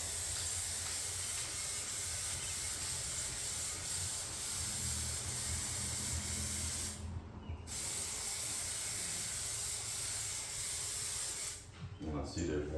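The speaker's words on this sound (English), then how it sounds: "I'm just going to spray all this mold where this mold was" A continuous hiss of treatment being sprayed onto mold on water-damaged drywall, steady and close for most of the time, with a brief pause partway through and a short break near the end.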